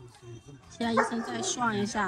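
A dog barks and yips repeatedly at other dogs and cats in a veterinary clinic waiting area, loud and close, with a person talking over the barking.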